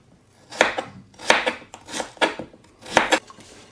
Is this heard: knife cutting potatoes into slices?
yes